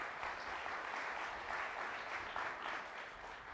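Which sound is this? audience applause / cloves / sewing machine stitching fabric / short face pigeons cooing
audience applause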